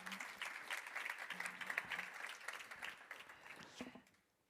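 Audience applause at a foundation's annual general meeting, a steady patter of many hands clapping at moderate distance that fades out toward the end.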